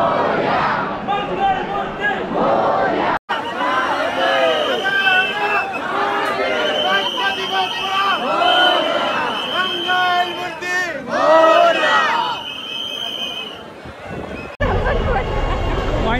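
A large, dense crowd of Ganesh Chaturthi devotees at Lalbaugcha Raja in Mumbai, with loud continuous babble, shouts and chanting close around, cutting out briefly twice.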